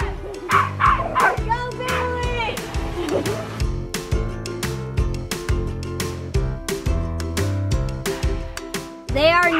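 Several dogs bark and yip excitedly at a drone flying overhead outdoors, with rapid repeated barks close by while people talk and a voice is heard.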